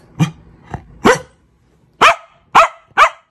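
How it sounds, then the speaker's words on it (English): A pet dog barks sharply indoors, six separate barks in two groups, the last three louder and evenly spaced, with no talk over them. "Who are you barking at, huh?"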